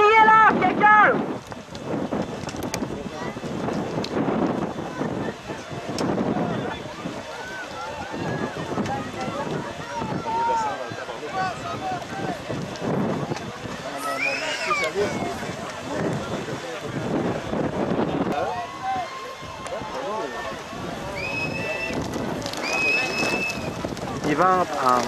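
Strong wind buffets the microphone during a boat race, a constant rough roar with faint voices mixed into the gusts.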